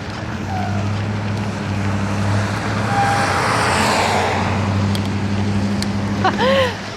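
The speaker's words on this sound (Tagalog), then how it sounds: "Yung sasakyan niya, nilakay niya sa sidewalk." A car engine drones low and steady as the vehicle drives along a snowy sidewalk, a continuous nearby rumble with wind-like hiss and a brief squeal near the end.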